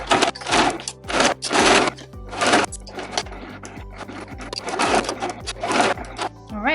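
A domestic sewing machine runs in several bursts, back-stitching over and over a small fabric loop on a zipper pouch made from scraps, its rapid mechanical whirr loud and close, separated by short pauses and clicks.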